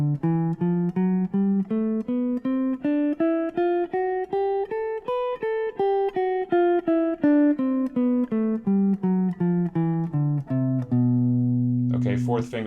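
A dominant bebop scale starting on B in a third fingering position, played as a steady stream of separate notes climbing and falling back down, loud and close, ending on a sustained note before a voice starts.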